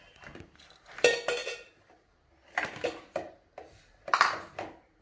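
A child playing at cooking handles kitchen pots, pans and utensils, making bursts of metallic clinks and clatters close by, with quiet pauses between the handfuls.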